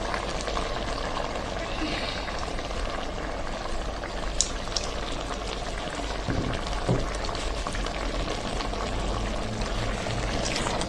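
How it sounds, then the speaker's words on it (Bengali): Washed, fried mung dal tipped into a pan of chicken being sautéed, a steady wet sizzle and tumbling pour that carries on throughout, close and fairly loud, with no talking. "মাংসটা এভাবে কষানোর পর আমি ভাজা মুগ ডালটা যে ধুয়ে রাখছিলাম এটা আমি পুরোটা দিয়ে দিব"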